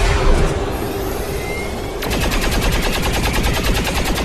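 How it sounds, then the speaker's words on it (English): XCOM 2 gunfire aimed at the avatar, a loud, dense stream of automatic shots that shifts midway into an even faster, rattling burst, with no voices. "Oh, you're shooting at the avatar."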